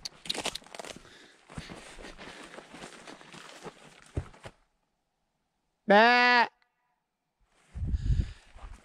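A single loud sheep bleat rings out after a stretch of rustling footsteps while a lost ram is being searched for at night, followed by a brief burst of voices.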